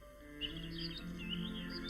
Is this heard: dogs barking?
no